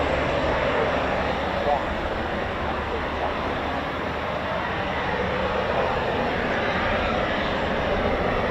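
Eurofighter Typhoon FGR4 jet engines spooling up at RAF Coningsby, a steady, loud broadband roar that holds unchanged throughout without obvious rises or breaks.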